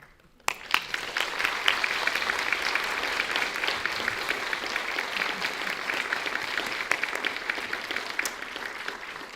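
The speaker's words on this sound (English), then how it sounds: "there was wonderful applause here for you and appreciation" An audience at a community conversation breaks into sustained applause after a sharp opening clap, a steady, moderately distant roar of clapping that carries on for several seconds before easing off.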